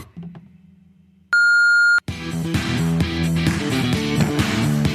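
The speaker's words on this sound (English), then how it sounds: "Please leave a message after the beep." A sustained pure electronic voicemail beep sounds for under a second after a low hum, followed immediately by loud music starting up.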